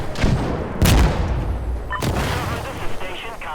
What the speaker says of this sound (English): Send the gunship.